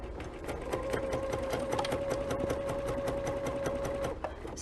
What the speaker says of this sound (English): pick up where I've left off with my 1/4 inch seam, and just continue to sew.